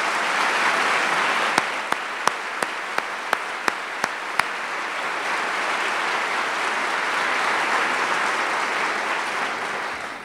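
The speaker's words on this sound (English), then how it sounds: "let's make this a clap, an applause" An audience at a city's State of the City address breaks into sustained, full applause, with a string of sharp clicks early on, like camera shutters.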